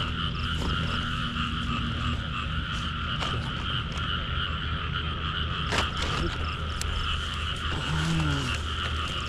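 Frogs croaking steadily in the rain, a dense layered chorus of repeated calls over a continuous wash of rainfall, with one nearer croak standing out toward the end.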